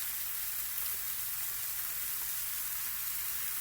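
Beef for an old-fashioned roast frying in a pan, giving a continuous, even sizzle with a faint crackle, close and steady with no voices.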